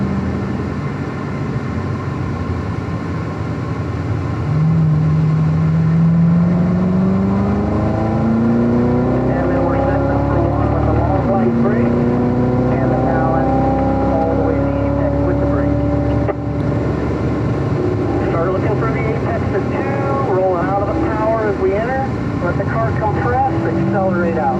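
A Corvette Z06 on a race track, its engine note climbing steadily through several long rising sweeps as it accelerates, loud and close from inside the car, with a driving coach talking over it.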